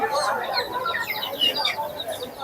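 Birds call and flutter together in a busy open-air pigeon market in Mirpur on a hot, humid day, with overlapping chirps and coos at close to moderate range and no clear speech.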